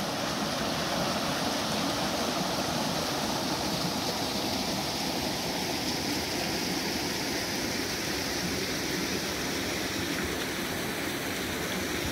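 Steady rushing water of a mountain river, a constant broadband roar with no pauses, close and loud throughout.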